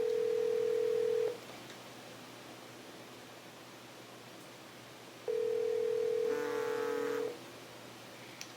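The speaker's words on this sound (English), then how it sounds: "So let's go ahead and dial that number." A Polycom VVX500 desk phone places a call: a steady tone sounds, drops away to quiet line hiss, then returns with a short flurry of layered dialing beeps, clear and close.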